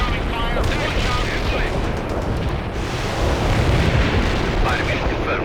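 Explosions and gunfire fill a World in Conflict battle, heavy blasts and crackling fire blending into a dense continuous roar while radio voices call out under it.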